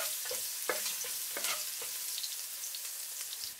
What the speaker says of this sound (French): J'ajoute l'ail haché. Je remue de temps en temps.